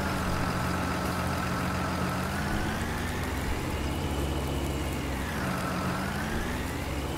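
Tractor engine in Farming Simulator 19 hauling a loaded 6,000-liter bucket, a steady loud drone throughout with the pitch sliding down and back up as the load shifts.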